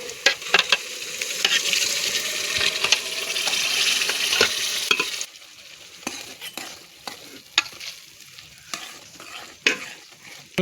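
Chopped tomatoes and green chillies sizzle loudly as they fry for a home-cooked dal in a village kitchen. Steady hissing is broken by repeated scraping stirs, then quietens to lighter crackle with sharp utensil taps.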